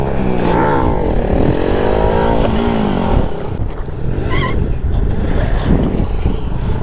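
An NS 160 motorcycle engine during a wheelie holds a loud, steady, rising rev, with a brief dip partway through before pulling hard again, close and continuous.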